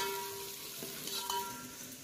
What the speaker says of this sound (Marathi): हा इकडे आपण शाकाहारी पांढरासचा फोडणी मारायला सुरुवात केली